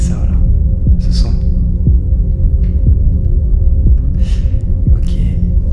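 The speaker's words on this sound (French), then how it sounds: "c'est vraiment comme un battement de cœur" A heartbeat-like throbbing played back: a low humming drone with slow, regular thumps about once a second, loud and steady, with brief breathy noises above it.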